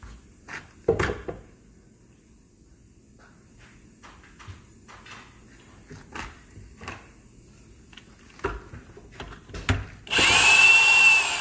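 Scattered knocks and light handling sounds, then a short, loud burst of power drilling into wood for a bed rail in a wood shop, with a high whine near the end.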